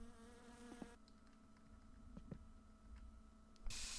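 Faint buzzing of bugs around the player in the game My Summer Car, a low steady drone with a few soft ticks, ending in a brief burst of spray hiss.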